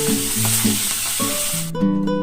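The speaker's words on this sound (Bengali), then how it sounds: "এবার আমি মাছগুলো ভেজে নেব" Tangra fish frying in hot oil in a kadai, a steady close sizzle with occasional stirring and clinks, alone without talk.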